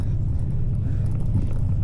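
Low, steady rumble of cars rolling past on a road, heard while riding a mountain bike, a continuous drone of road noise without voices.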